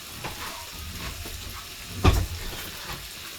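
Chorizo pesto pasta being stirred in a hot pan, a soft steady sizzle with light scraping, and one sharper clatter partway through.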